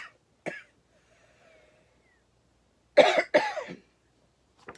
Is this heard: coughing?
yes